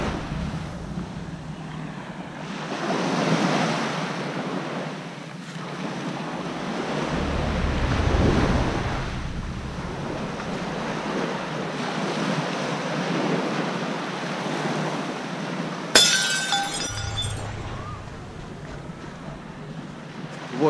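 Surf washes onto Sairee beach on Koh Tao, soft waves swelling and receding in slow rolling surges, with wind buffeting the microphone and a brief sharp crackle near the end.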